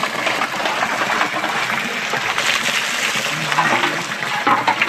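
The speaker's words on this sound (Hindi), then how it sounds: "मैं जा रहा हूँ धारे में पानी लाने" Fresh water pours steadily from a mountain spring, a continuous close rushing and gurgling stream that holds an even level throughout, with faint background sound beneath it.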